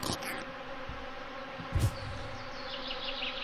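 Wasps buzz in the video game Anka, a steady droning hum with a brief louder thump partway through and no talk over it.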